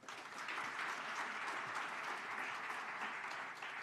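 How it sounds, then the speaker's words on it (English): A large audience at a national sport awards ceremony in Namibia gives a sustained, dense round of applause that holds steady at full strength for several seconds before easing slightly at the end. "I believe they deserve a round of applause."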